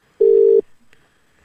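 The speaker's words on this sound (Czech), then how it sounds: "Už to tam vyzvání." A single long steady ringback tone on an outgoing telephone call, loud and clean for about half a second, followed by quiet line noise and faint clicks.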